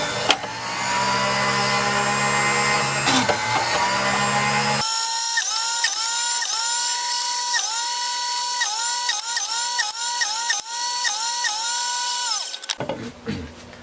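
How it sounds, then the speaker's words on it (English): A small power drill with a 1/16-inch bit whirs steadily at high speed, its pitch rising and dipping briefly as it bores entry holes for scroll-saw cuts in a sign, then stops abruptly. "entry holes with a 16th inch drill bit in there"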